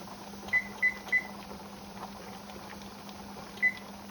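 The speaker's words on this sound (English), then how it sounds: "So now I will set the timer for 75 minutes." Kitchen timer on a pressure canner setup, set for 75 minutes while baked beans are canned, gives four short beeps — three quick ones in a row, then one more after a pause — over a steady low hum.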